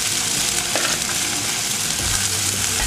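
Clarified butter sizzles steadily in a hot pan, a dense continuous hiss and crackle, close and even throughout.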